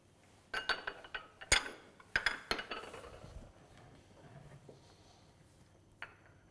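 Butter being stirred into a chocolate ganache in a professional pastry kitchen, heard as a run of sharp clinks and taps of a utensil against a bowl, closely spaced at first and then thinning to softer scraping, with a final light clink.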